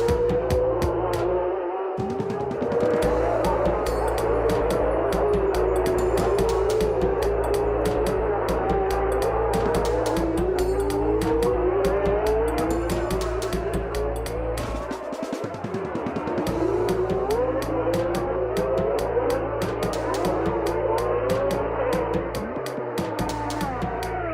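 Formula 1 cars from 1982, with Villeneuve and Rosberg battling for position at the Brazilian Grand Prix, scream steadily with rising and falling engine pitch, loud and continuous, broken by brief dips as they pass.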